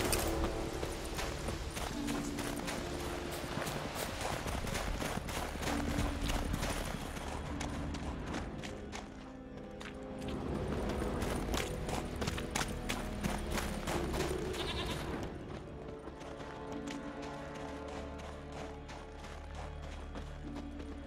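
Horse hooves beat rapidly in a galloping clip-clop rhythm in The Witcher 3, a steady close stream of thuds layered over a dense game soundscape with music and mechanical clatter, continuing without a break.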